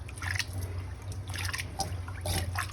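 Water sloshes and trickles in soft bursts against a low steady hum as rice is swished and rinsed in a bowl before cooking, quiet and close.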